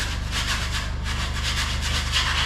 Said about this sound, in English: first thing I'm gonna do is use the knife to knock down some of the high spots